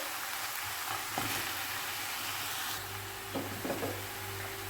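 Hot water pours into a pot of ovmaç soup, where spices have been stirred in the hot fat, giving a steady hiss and sizzle with a few soft knocks.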